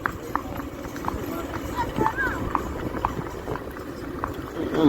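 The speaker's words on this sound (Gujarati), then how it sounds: "હવે ઉપડી છે ઘોડી" A mare walking on a road, her hooves clip-clopping in a steady repeated rhythm at moderate distance, with people talking over the sound.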